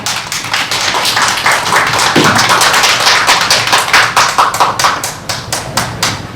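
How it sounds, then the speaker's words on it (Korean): An audience at a Korean election-reform organization launch event applauds the incoming speakers, close, sharp hand claps at first fast and dense, then thinning into distinct individual claps near the end. "큰 박수로 맞아주시기 바랍니다."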